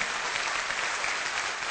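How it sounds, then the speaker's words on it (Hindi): Steady, dense applause from a seated audience at a motivational business seminar, a continuous wash of many hands clapping at even loudness with no talking over it. "एक बार दिल से तालियां"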